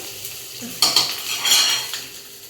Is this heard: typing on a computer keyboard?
no